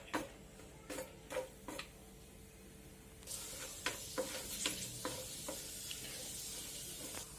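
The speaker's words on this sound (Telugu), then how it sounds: "జీడిపప్పు కిస్మిస్ నెయ్యిలో కొద్దిగా ఫ్రై అవ్వాలి." Cashews and raisins fry in ghee for rava laddu. A few light taps and clicks come first, then a soft, steady sizzle rises and continues with occasional stirring knocks, fairly faint and without speech.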